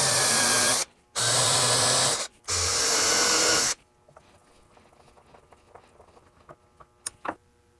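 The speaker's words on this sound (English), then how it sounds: "And I'll go ahead and drill the other holes." A power drill bores holes in a wooden side table in three loud, close bursts separated by short pauses, followed by quiet handling clatter and a couple of small knocks.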